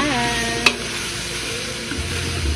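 Ingredients for pancit sauté quietly in a pan, a soft steady sizzle with a single sharp clink of a utensil early on, faint and unbroken throughout.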